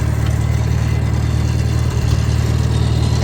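A Farmall M tractor engine runs steadily with its power takeoff engaged, giving a continuous low rumble at constant loudness throughout, with no change in pace and no one speaking.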